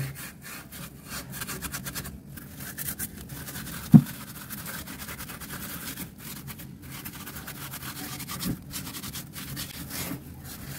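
A scrubber rubs hard at a stain in quick repeated back-and-forth scratchy strokes, close and fairly quiet, with a single sharp knock partway through and no voices.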